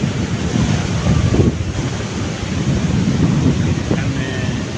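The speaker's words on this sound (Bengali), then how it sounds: "ওই যে ঢেউগুলো আসছে আমাদের দিকে," Sea waves roll and break on the beach at Inani, Cox's Bazar, a loud, steady surf roar mixed with wind buffeting the microphone.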